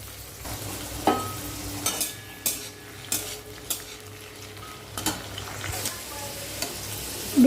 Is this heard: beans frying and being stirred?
yes